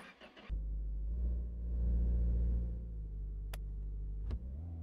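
A video game car engine catches and settles into a steady low rumble, then revs up and eases back, with a couple of sharp clicks near the end.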